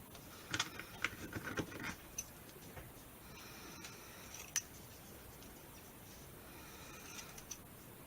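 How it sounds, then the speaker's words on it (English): Scissors snip a paper Christmas tag, a quick cluster of crisp cuts at the start followed by a few isolated soft clicks and rustles, close and quiet. "then we'll trim this part of the tag down"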